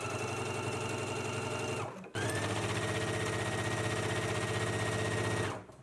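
Sewing machine running a 5/8 inch seam allowance, a loud continuous close-up rattle of rapid stitching with one brief stop before it resumes and then winds down.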